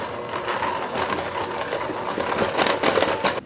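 An electric mixer on low speed working dry ingredients into banana bread batter, giving a steady, close buzzing whir with a light rattling texture throughout.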